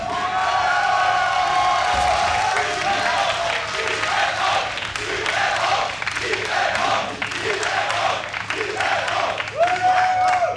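A large live crowd at a WCS Europe Premier League StarCraft quarter-final cheers, whoops and claps for Zerg player Liquid TLO, a sustained roar with a caster's voice audible over it.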